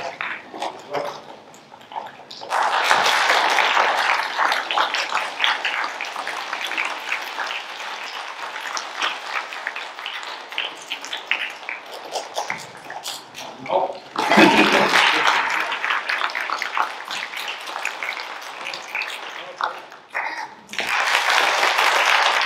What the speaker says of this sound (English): We're only going to use our claps.